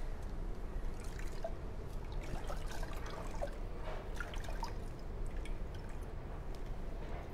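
Steady trickling and dripping water from a wet rag, a continuous wet patter with small splashes, close by and fairly quiet, with no voices.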